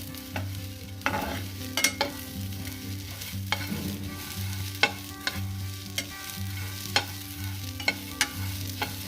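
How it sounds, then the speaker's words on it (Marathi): Hurda (tender jowar grains) dry-roasting in a pan with no oil, stirred with a spatula: sharp scraping clicks and rattles every second or so over a low hum, close up, no talking. "त्याच्यावरच हा हुरडा भाजला जातोय."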